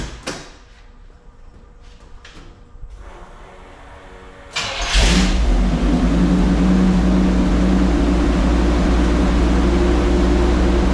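A Mini Kenworth truck engine with its air conditioning belt fitted cranks briefly, then catches and settles into a loud, steady idle that runs on to the end.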